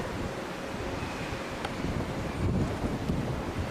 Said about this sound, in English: Wow, it's cold out here. Weatherman said it would be cold. A lot of wind.